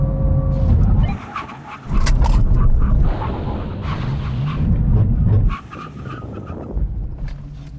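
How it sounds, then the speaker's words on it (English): Nissan GT-R, Ford Mustang and BMW M3 performance cars braking hard from 70 mph in a full emergency stop, loud engine and tyre roar with bursts of surging noise, a faint voice briefly underneath. "When we reach the line, full emergency stop."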